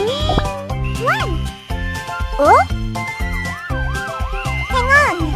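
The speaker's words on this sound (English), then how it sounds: "Police car!" A cartoonish police siren wails in rising and falling sweeps over bouncy music, with brief voices in between.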